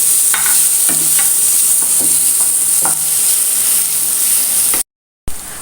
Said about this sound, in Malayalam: ഇനി നമ്മൾ രണ്ട് സവാള സ്ലൈസ് ചെയ്തത് ഇട്ട് കൊടുക്കാം അത് നല്ലോണം ഒന്ന് വാട്ടിയെടുക്കാം